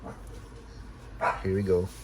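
A pet dog gives one short, close bark-like yelp indoors, right after someone speaks briefly.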